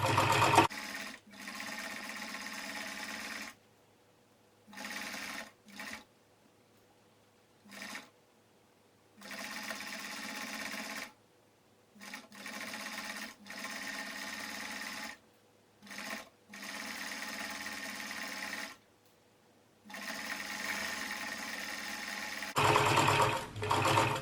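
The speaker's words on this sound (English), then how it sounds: "try not to pull it as it's going through the sewing machine" A sewing machine stitches stretchy fabric for a baby's hat in repeated bursts, whirring steadily for a few seconds at a time, then stopping briefly before starting again.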